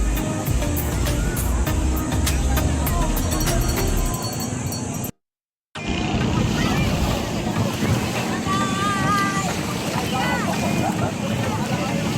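Wind and surf at Patar white beach in Bolinao, a constant loud roar of waves and wind buffeting the microphone, cut by a short silent gap midway, with voices now and then.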